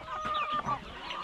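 Pet chickens clucking softly, a couple of short clucks and calls close by over a quiet background.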